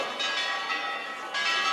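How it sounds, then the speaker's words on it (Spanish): Church bells ring in Teruel, Spain, with a bright, sustained metallic tone that swells again with a fresh strike near the end. No voices are heard. "cree que las campanas anuncian su llegada"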